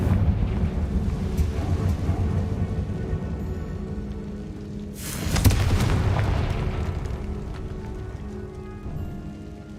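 A Confringo spell explodes in the Hogwarts Legacy video game. A burst lands midway through a dense rumbling battle soundscape, giving a loud boom that slowly fades.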